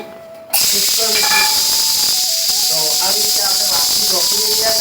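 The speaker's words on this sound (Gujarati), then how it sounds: "ખીચડી વઘારી દીધી છે" Khichdi being tempered in a pot gives a sudden, loud, continuous steam hiss that bursts in after a brief quiet moment and keeps going, with faint tonal sounds underneath.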